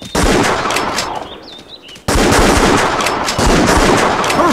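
A rifle fired during a deer hunt in New Mexico: two sharp, loud gunshot cracks about two seconds apart, each followed by a brief outdoor echo, with a faint bird chirp between them.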